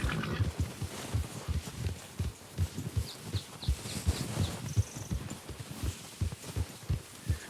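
A horse in Red Dead Redemption 2 clops along in a steady rhythm of thudding hooves, close and moderately loud, with faint chirps in the background.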